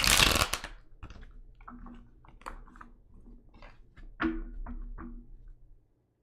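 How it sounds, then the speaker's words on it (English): A deck of cards shuffled by hand, opening with a loud riffle and then tapering into scattered soft taps and flicks. "Why can't I shuffle these cards today?"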